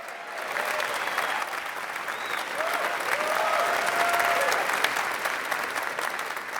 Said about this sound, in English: let's give a round of applause to the staff here at the Castro Theater